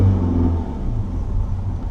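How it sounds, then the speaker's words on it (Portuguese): A Lifan 530 sedan's engine accelerates while driving, a loud, somewhat rough low rumble with a steady drone inside the cabin; the engine sounds a bit noisy and harsh under acceleration. "o motor tá um pouquinho ruidoso. Nas acelerações ele é um pouquinho ruidoso, parece um pouco áspero em funcionamento"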